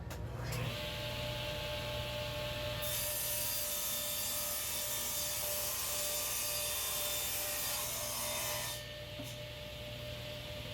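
A wooden cabinet panel being crosscut for a kitchen base cabinet build makes a loud, continuous whine with a high grinding edge. It runs steadily for about nine seconds, then drops away as the blade spins down.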